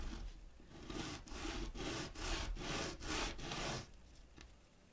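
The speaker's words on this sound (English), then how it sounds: "So let me do a quick sanding." Coarse 80-grit sandpaper scrubbing Cosclay, heard as a run of rhythmic rasping strokes, about six back-and-forth passes, close and fairly quiet.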